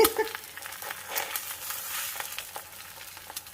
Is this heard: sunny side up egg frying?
yes